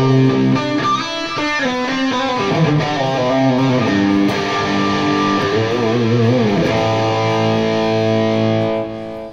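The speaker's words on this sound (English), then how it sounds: "this is the tone of my amplifier using the RP1000 just for a little bit of delay." Electric guitar played through an amplifier's preamp with a Digitech RP1000 adding light delay, heard as a distorted, sustained tone with ringing chords and melodic lines that trail off near the end, no voice over it.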